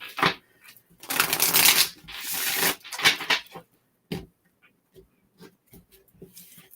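Crisp riffling bursts of a card deck being shuffled, two long flurries followed by a few lighter taps and flicks, close and without talk.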